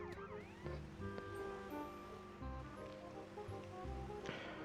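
In GTA San Andreas, a police siren wails faintly amid game ambience, its rising and falling tone sounding behind other steady in-game tones and rumbles.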